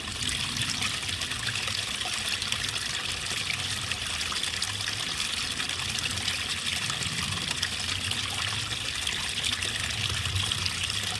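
A small stream trickles steadily and continuously, a gentle close-up babble of water with no voices over it.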